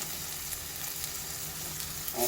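Hand-crushed tomatoes frying in a pan for a lady's finger chilli curry, a close, steady sizzle and hiss with a brief rise in noise at the end.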